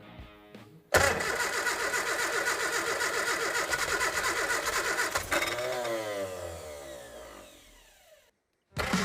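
A classic Mini's engine cranks and fires after a short pause, then settles into a loud, steady idle close by before cutting off near the end.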